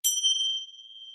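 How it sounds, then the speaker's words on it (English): A single bell is struck once to open a yoga session on the mat, giving a bright, clear ding that rings on as a long, slowly fading tone with no voices. "So let's start our session with the bell."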